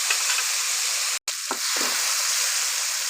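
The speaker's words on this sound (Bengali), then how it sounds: "এখন আমি একে একে সবজিগুলো দিয়ে দিব।" Vegetables hit a hot pan with an oily sizzle for a mixed vegetable curry, a brief gap followed by a couple of scraping stirs, the frying hiss continuing close and steady throughout.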